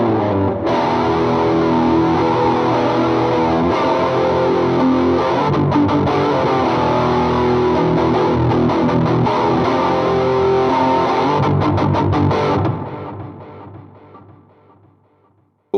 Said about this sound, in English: So basically what you heard was a Vox based amp.